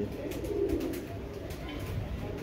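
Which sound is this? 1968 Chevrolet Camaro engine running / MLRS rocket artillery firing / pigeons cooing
pigeons cooing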